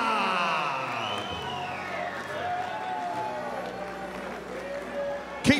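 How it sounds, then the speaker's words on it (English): A large crowd at a Muay Thai event cheers and applauds at a distance, a sustained roar with rising whoops, ending in a sharp burst of noise. "Keep your applause going for Marcus"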